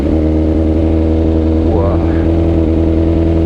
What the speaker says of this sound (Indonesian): langsung aja kita hidupin motor yang satu ini